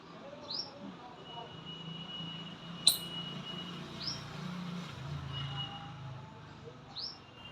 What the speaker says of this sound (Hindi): यहाँ पे गिलहरी और चिड़िया आपस में बात कर रही थी